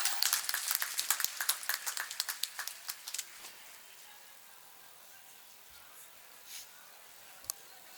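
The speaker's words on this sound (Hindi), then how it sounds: "जोरदार तालियों से स्वागत करें माननीय मुख्यमंत्री जी का" Audience at a public social reform rally in Gopalganj welcoming the Chief Minister, a burst of scattered hand claps that starts loud and thins out over a few seconds, then fades to near silence with a few faint claps later.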